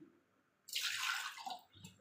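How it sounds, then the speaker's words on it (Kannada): Water is poured into rice in a pressure cooker: a brief, close splash and trickle lasting under a second, followed by a faint gurgle and drip in otherwise quiet surroundings. "ಇದಕ್ಕೆ ಎಷ್ಟು ಬೇಕೋ ನೀರು ಅಷ್ಟು ನೀರನ್ನು ಹಾಕ್ಕೊಂಡು 3 ಸೀಟಿಯನ್ನು ಇದನ್ನ ಅನ್ಸ್ಕೋಬೇಕು."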